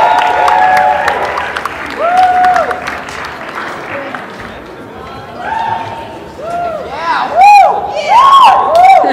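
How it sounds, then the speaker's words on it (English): Audience at a male beauty pageant talent round claps and cheers for a contestant, a lively crowd roar with whoops and shouts rising in bursts, while people talk nearby over it. "Clap it up."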